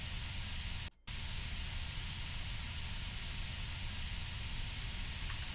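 Continuous rushing hiss of air escaping a burst pipe, made as an endless loop for a horror game, holding a flat, dense level throughout apart from one very short dip near the start.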